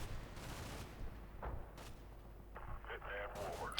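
Gunfire in a firefight in the video game Combat Mission Shock Force 2, with 40mm grenades, heard as scattered cracks and short bursts over a steady background hum, with a few sharper shots near the end.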